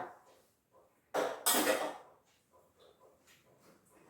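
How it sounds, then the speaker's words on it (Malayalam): A pressure cooker holding half a medium jackfruit and a glass of water has its lid shut, heard as a cluster of close metallic clanks and scrapes with quieter taps before and after. "ഇനി കുക്കർ അങ്ങ് അടച്ച്"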